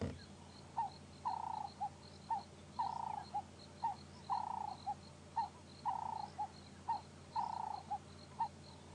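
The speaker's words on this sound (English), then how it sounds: "Cape turtle doves." Cape turtle doves calling in the African bush at dusk, a repeated rhythmic series of mid-pitched cooing phrases, steady and moderately distant, with no speech.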